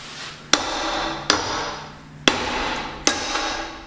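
A hammer strikes a crowbar wedged under a part of an old 1960s Allis Chalmers/Simplicity walk-behind mower, four sharp metallic blows spaced about a second apart, each ringing briefly before fading.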